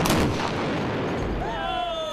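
A heavy explosion booms, a dense roaring blast with a long rumbling decay over about two seconds, loud and close.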